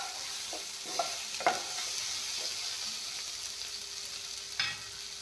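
Pointed gourd and bitter gourd fry quietly in a pan with tomatoes, giving a soft, constant sizzle broken by a few light scrapes and clacks as the spoon stirs them.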